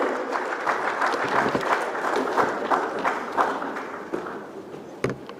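An audience at a Nigerian youth conference applauds to welcome an ambassador, a steady wash of clapping at moderate loudness with a few sharper individual claps near the end.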